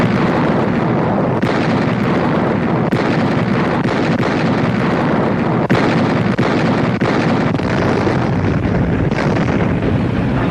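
Naval bombardment at Tarawa as cruisers and destroyers shell the island defenses: a dense, continuous roar of overlapping explosions and artillery blasts with sharper bursts punching through, loud and sustained throughout.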